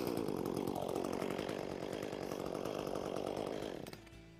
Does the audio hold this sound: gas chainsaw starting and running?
yes